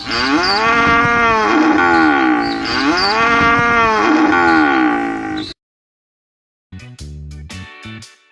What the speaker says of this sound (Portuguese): O mugido da vaca tem um som longo.